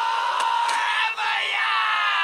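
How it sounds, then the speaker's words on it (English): A volleyball crowd roars and yells as fans rush the court after a Yale versus UNC match, a dense, continuous wall of cheering and shouting with a few sharper whoops standing out. "As the crowd charges the court, the people are weeping! Tears of joy!"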